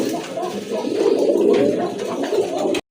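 Big red indigo male pigeon with a pot-necked marking and an upright crest cooing steadily and close by for nearly three seconds, a continuous low burbling call that cuts off abruptly at the end.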